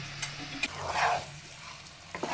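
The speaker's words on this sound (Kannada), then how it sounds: "ನಾನು ಒಂದು ಚಮಚದಷ್ಟು ತುಪ್ಪವನ್ನು ಸೇರಿಸಿದ್ದೀನಿ" Ghee stirred into kharabath frying in a pan, giving a soft, steady sizzle with a few light scrapes and taps of a spoon against the pan, close by and with no voices.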